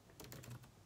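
Rapid keystrokes on a computer keyboard, about a half-dozen quick clicks in a short burst, faint and close with no talk over them.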